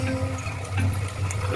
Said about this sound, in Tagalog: So palalagyan ng tubig